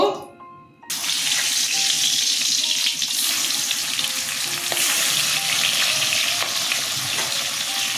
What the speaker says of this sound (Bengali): আড় মাছ, বোয়াল মাছ এগুলো তেলে ছাড়লে ভীষণ ফোটে।